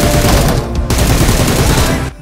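Sustained automatic gunfire from an M762 assault rifle in PUBG, a loud, dense stream of shots with a red dot sight fitted, running continuously for about two seconds before cutting off abruptly.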